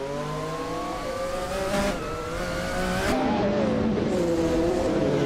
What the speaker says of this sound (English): Nuts is driving a 1997 McLaren F1 GTR Longtail